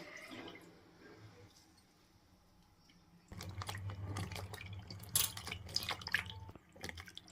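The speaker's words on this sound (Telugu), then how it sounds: "మష్రూమ్ని అయితే ఈ విధంగా శుభ్రం చేసుకుని వాటర్లో బాగా ఒక రెండు మూడు సార్లు బాగా కడిగే కడుక్కోవాలి" Mushrooms being rinsed two or three times in water while cleaning them for mushroom biryani: after a quiet stretch, close-up splashing, sloshing and dripping water with clattering handling sounds, no talking.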